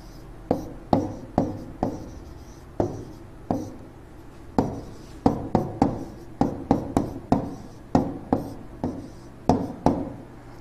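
Pen strokes writing a line of notes on a board or page during a Hindi science lesson, sharp distinct taps and scratches in an irregular rhythm, close and moderately loud, with no talking.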